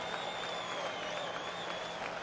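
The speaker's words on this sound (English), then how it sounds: "Crowd trying to help him out a little bit, coming to life" A baseball stadium crowd cheers and applauds in a steady, far-off wash of noise that holds without a break, with a faint announcer-like tone underneath.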